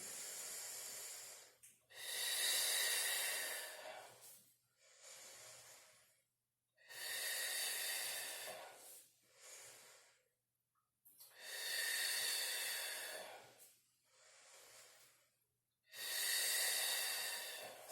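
Deep, slow breaths drawn in and pushed out during a core-strength yoga session, each inhale and exhale a long airy rush lasting a second or two, close and steady in a repeating rhythm with brief silent pauses between.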